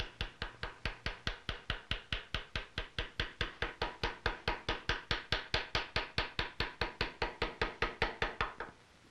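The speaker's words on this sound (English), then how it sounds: "The majority of the engraving is done with the V-shaped engraver, which cuts a narrow line." Hand engraving on metal for colonial gun making with a V-shaped engraver, struck by a steady run of about forty evenly spaced sharp taps, close and crisp, stopping abruptly, no voices.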